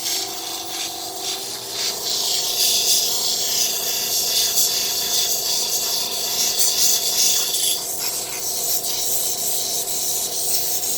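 Wood pieces for intarsia being ground, a steady, close abrasive rasp that runs unbroken and fairly loud, with no talking.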